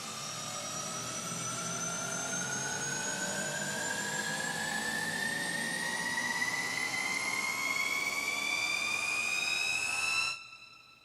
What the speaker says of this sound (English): It's a long riser, but basically what it does is that, you know, it has sort of a fade out a little bit to it.